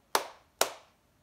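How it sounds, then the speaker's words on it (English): Two sharp, close hand claps spaced about half a second apart ring out alone during a children's circle-time song, each with a quick decay. "Did you clap?"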